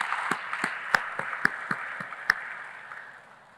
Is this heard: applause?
yes